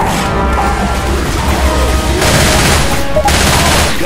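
Left 4 Dead 2 gameplay brings a dense barrage of rapid gunfire that goes on without a break, loud and close, with crashing impacts mixed in.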